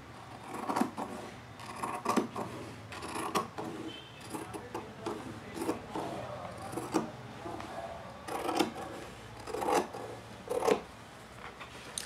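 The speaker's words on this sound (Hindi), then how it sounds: "ये निशान लगाने के बाद अब इसको हम यहां से काट लेंगे।" Scissors snip through patchwork fabric while a foot mat is being made, giving a series of short, crisp cuts in irregular bursts, fairly close and moderately loud, with no talking over them.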